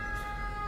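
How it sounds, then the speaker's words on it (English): An ambulance siren on a street in Rome sounds as a steady, loud, sustained wail with no break, heard alone and without talk. "There's nothing to kill a punchline like a Roman ambulance"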